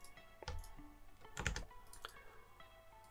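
Key presses on a computer keyboard while working in Blender 2.83: a few sharp clicks, with one cluster of taps in the middle standing out, close and otherwise quiet.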